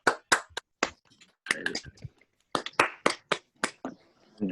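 Scattered claps from several participants on an online meeting call, irregular and uneven bursts of clapping with brief murmurs between them, moderately close and unpolished.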